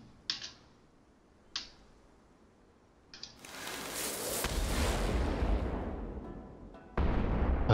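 A few sharp clicks, then a loud rumbling blast that swells into a sustained roar of noise, fading and then cutting back in abruptly, as a cannon fires in Genshin Impact.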